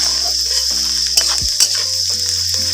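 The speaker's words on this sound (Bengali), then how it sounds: "এবারে দুটো একসঙ্গে ভাজতে থাকবে, দুটোই লাল লাল হয়ে যাবে" Chopped onion and garlic fry together in a pan with oil, a steady close sizzle throughout with a few stirring scrapes and clicks, no talking.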